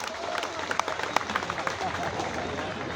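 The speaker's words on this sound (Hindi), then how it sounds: "तालियां कम है आपकी।" Audience applause at a Diwali Mela 2024 poetry recital, a steady wash of crowd clapping with sharp individual claps standing out, moderately loud and continuous throughout.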